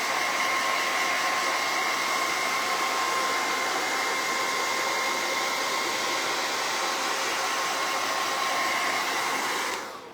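A hot air dryer blows steadily on freshly applied ink, a loud, even whooshing roar with a faint whine that holds for about ten seconds before starting to cut off.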